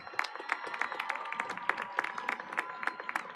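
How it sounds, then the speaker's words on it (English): Audience applause for graduating seniors at the Hanks High School 2021 graduation ceremony, steady scattered clapping from a crowd heard at moderate distance, with individual claps popping out of the wash. "please join me in a round of applause for these outstanding seniors"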